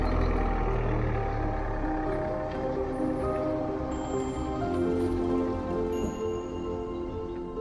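A four-wheel drive vehicle with the drive lock engaged moves through icy woodland at minus nine degrees, its engine a steady loud low rumble with crunching, rustling texture from the frozen ground, and nobody talks.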